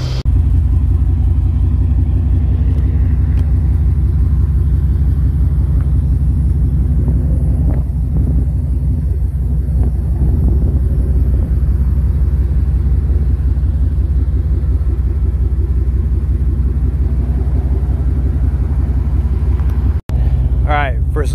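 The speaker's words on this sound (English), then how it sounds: "It's super hard to catch this exhaust note." A 1996 Chevy Tahoe fitted with a Borla Pro XS exhaust rumbles at a deep, steady idle, close and loud throughout, with a slight rise in the middle and a sharp cut near the end.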